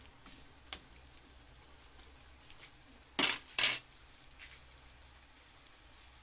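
Garlic and ginger fry for a chicken curry with a faint, crackling sizzle, broken by a couple of sharp utensil scrapes or clinks partway through.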